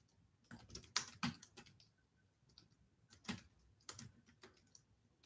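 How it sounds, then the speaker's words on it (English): Computer keyboard keys tapped in several short bursts of clicks with pauses between, close and fairly quiet, with no talking. "Let me type something in."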